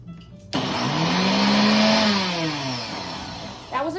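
A Mueller CB-560 10-speed professional blender switches on abruptly and whirs loudly, its pitch climbing and then sinking for about three seconds before it stops and a voice begins.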